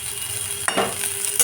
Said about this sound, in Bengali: দু মিনিট পর খুলে একটু নাড়াচাড়া করে নিলাম